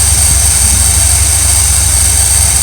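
A warming RV engine sits at idle, droning loudly and evenly with a deep throbbing rumble and an unbroken hiss throughout.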